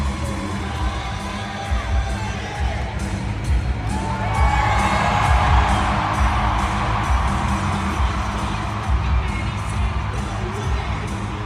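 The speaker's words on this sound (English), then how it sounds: "Crowd goes wild as Travis is slamming his beer and then spiking it on the ground" A stadium crowd in Kansas City roars and whoops as Travis Kelce chugs a beer and spikes it, a dense sustained cheer that swells midway, with music faintly underneath.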